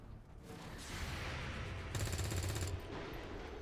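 Gunfire from XCOM 2 overwatch shots comes as a rapid, rattling burst over a steady rumble of game ambience. It is fairly faint overall and swells in the middle.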